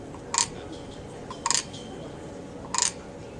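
A person imitates the croak of a canyon tree frog, giving three short, rasping bursts at even spacing over a steady outdoor hush.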